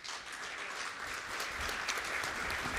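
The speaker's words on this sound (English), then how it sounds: "Let's have a round of applause, please." Audience applause for a conference panel on disability access, a steady, faint patter of many hands clapping at a distance, sustained throughout with no talk over it.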